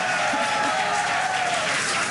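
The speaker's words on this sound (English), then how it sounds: "the crowd here in Hawthorne continuing to react to all these amazing views that we're getting" A crowd at a SpaceX Starship launch viewing in Hawthorne applauds and cheers steadily, a dense wash of clapping and voices filling the space without a break.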